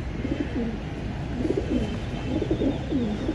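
A pigeon coos in repeated soft, rolling phrases, close and steady over a faint background hiss, with no speech.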